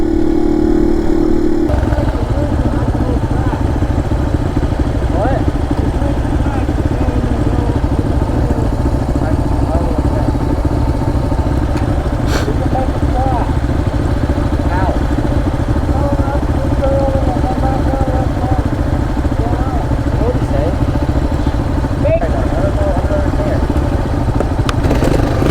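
Dirt bikes and a moped on a hill climb, their engines droning loud and continuous throughout, heard from close behind with a steady rough rumble and clatter and no clear gaps.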